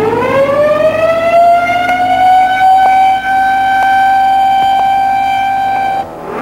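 A loud Federal Signal siren wails in a test chamber, its pitch rising and then holding steady on a piercing tone for several seconds before stopping abruptly.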